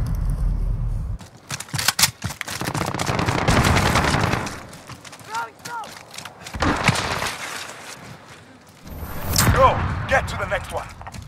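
Heavy gunship weapon fire in a combat video game: loud, close bursts of rapid shots that break off and resume several times across the stretch.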